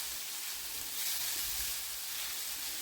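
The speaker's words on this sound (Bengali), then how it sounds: "এইভাবে প্রথমে আলুটা একটু ভেজে নেব" Potatoes frying in a small amount of oil give off a steady, soft sizzle that holds evenly throughout, close and quiet, with no voices over it.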